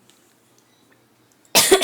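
A single loud cough bursts out near the end after near silence, close to the mic, with a second harsh push right after.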